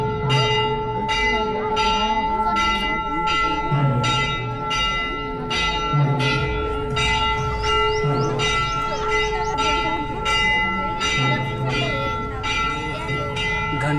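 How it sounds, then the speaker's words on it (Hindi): A church bell rings before a church wedding near Rourkela, striking about a dozen times in an even, steady rhythm, with each stroke ringing into the next in a loud, sustained metallic peal. "घंटी बजना शुरू हो गया।"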